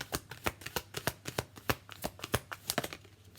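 An Angel Guide oracle card deck by Kyle Gray gets shuffled up close, its cards slapping together in a steady run of crisp, evenly spaced flicks at moderate loudness, with no voices.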